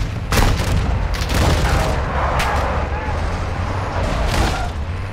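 Gunfire and heavy booms in Call of Duty: Modern Warfare II, loud and continuous, with repeated explosive bursts over a rumbling vehicle bed while players talk over the action.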